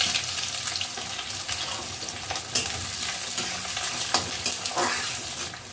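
Cumin seeds, bay leaf and onion are fried in a pan for an oil-free mushroom curry, giving a steady close sizzle broken by scraping stirs and a few clinks, with no voices.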